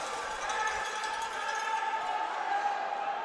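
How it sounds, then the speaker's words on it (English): A lively crowd at a youth ice hockey championship game produces a continuous broad murmur and cheer from the stands, with a commentator's voice running over it. "It's a lively crowd here on both sides."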